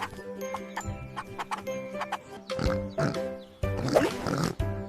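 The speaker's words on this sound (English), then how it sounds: "It's a pig." A cartoon-style pig oinking in a kids' farm animal guessing game, several short grunting oinks over light background music, followed by a brief louder burst near the end.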